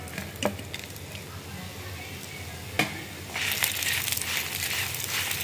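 Green chillies and coriander dry-roasting in a pan for a Konkani spicy fish curry give a steady close sizzle with faint scraping stirs, growing brighter and louder toward the end.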